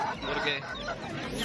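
Several chickens cluck and chatter at once amid a busy, noisy bird market bustle in Sindh.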